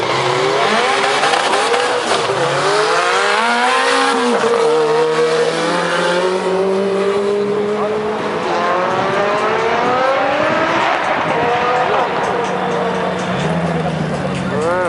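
At a 2012 Lithuanian drag racing championship round in Kazlų Rūda, cars including a Honda Prelude roar loudly as they accelerate down the strip, engines climbing through rising gear-change sweeps, with continuous commentary spoken over the noise.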